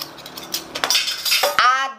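A metal spoon and spatula clink and clatter against each other and a pot, a few close, bright knocks ending in a ringing metallic tone.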